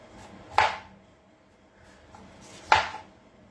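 A knife chops through yam on a kitchen cutting board while the black bits are trimmed off during home cooking: two sharp, close cuts about two seconds apart, with quiet pauses between them.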